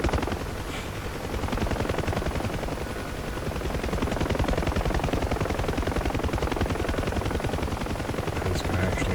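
A helicopter's rotor beats in fast, even, chopping pulses under a loud continuous turbine roar in the DCS flight simulator game, steady and close throughout with no talking.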